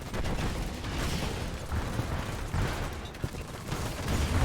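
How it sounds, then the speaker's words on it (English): Rockets firing at Avatar walkers in Command & Conquer 3: Kane's Wrath, a steady rumbling barrage of launches and explosions with sharp bursts scattered throughout, fairly loud and alone. "The rockets are taking them out pretty fast"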